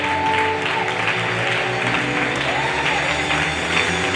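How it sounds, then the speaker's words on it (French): Church congregation cheering and clapping in praise, loud continuous applause mixed with voices and sustained musical tones beneath, full and close throughout. "Donnons des acclamations très fortes, très fortes"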